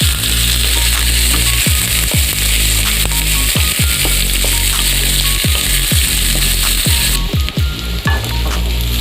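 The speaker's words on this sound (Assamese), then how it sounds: "কাজু কেইটাও দি দিছোঁ একেলগে। এইখিনি ভাজি ল'ম 2 মিনিট।" Cashews and onions frying together in a pan for butter paneer make a loud, continuous sizzle, with repeated sharp clicks and scrapes of a spatua stirring, no voices.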